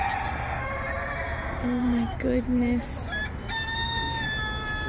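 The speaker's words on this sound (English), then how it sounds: "That's a chicken over there that's saying that." A rooster crows nearby outdoors among other fowl, with a surprised voice reacting briefly around the call.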